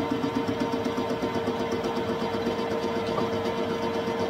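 A metalworking machine cuts a custom chopper motorcycle part, taking light passes, with a steady, close mechanical whir and a fine, rapid rhythmic chatter that holds evenly throughout.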